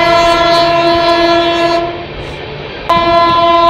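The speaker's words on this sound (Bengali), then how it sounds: "Sealdah Jalpaiguri road Humsafar express" The Sealdah–Jalpaiguri Road Humsafar Express, train 13115, arriving at Ranaghat Junction sounds a loud, sustained horn close by. The horn breaks off for about a second, leaving rumbling rail noise, then blasts again.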